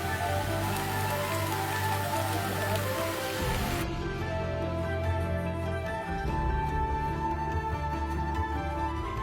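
Steady rain falling, a dense continuous hiss of drops spread evenly across the whole stretch, with no talk over it.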